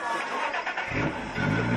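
A drift car engine cranks and catches, the low rumble swelling into an idle partway through, heard close by.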